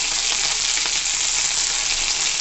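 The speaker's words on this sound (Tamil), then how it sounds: "இப்போ கருவேப்பிலை போட்டுக்கோங்க" Curry leaves hit hot oil in a pan of sautéing ingredients for mint coriander chutney, producing a loud, close, unbroken sizzling hiss.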